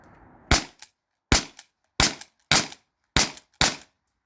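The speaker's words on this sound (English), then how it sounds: "6 more shots. I'm using nylon balls." An HDP50 Gen 2 launcher firing nylon balls: six sharp, loud pops, each with a short click or echo after it, spaced roughly half a second apart.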